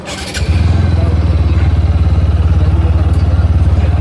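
A motorcycle pulls away to begin a ride toward Mandarmoni Beach, its engine catching after a brief clatter and settling into a loud, close, even putter that holds steady to the end.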